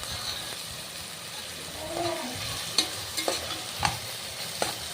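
Tomatoes for chicken biryani are sautéed in a pan, producing a steady close sizzle with spatula scrapes and knocks against the pan, while a voice talks faintly underneath.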